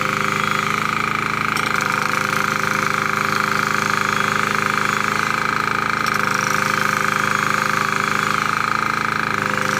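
A generator engine runs at a roadside pipe-laying site, producing a steady, loud, continuous drone with a constant mechanical hum and no pauses throughout.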